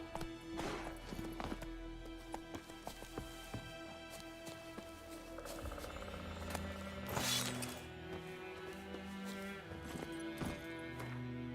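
A horse gallops in The Witcher 3, its hooves clip-clopping in a fast, steady rhythm at close range, with clattering bursts and rustling, and a brief, quiet voice now and then.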